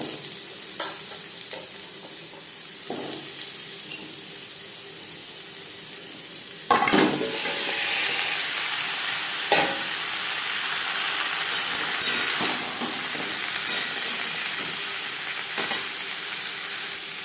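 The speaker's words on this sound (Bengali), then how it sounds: "সামান্য পরিমাণে রিফাইন্ড অয়েল গরম করে নিয়েছি এই পর্যায়ে দিয়ে দেবো পেঁপে" Peeled papaya pieces dropped into hot refined oil hiss and crackle steadily, with sharp bursts of sizzle and clatter as they hit the pan and get stirred, close and fairly loud.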